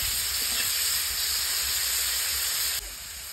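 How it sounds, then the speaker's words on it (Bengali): Paneer cubes, about 250 grams, frying lightly in hot oil make a steady, dense hiss and sizzle that runs throughout and drops slightly near the end. "একটু হালকা করে আমি ভেজে নেব"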